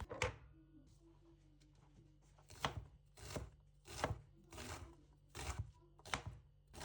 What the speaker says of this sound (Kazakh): енді укроп, петрушкаларымызды осылай ұсақтап турап аламыз